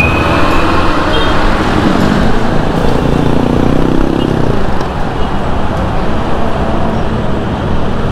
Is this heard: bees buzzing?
no